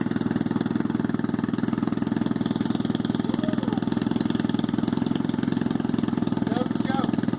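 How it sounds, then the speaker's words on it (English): A 2007 Triumph Bonneville fitted with a new D&D racing exhaust idles close by with a steady, throbbing, even-pulsed rumble, while voices speak briefly over it. "first start since the new racing exhaust."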